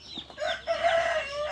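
Desi chickens in a poultry shed kept under heat bulbs, with a rooster-like call and clucking close by, rising and falling over a quiet background with no speech.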